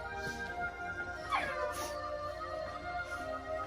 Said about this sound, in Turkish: Köpekler gidiyor.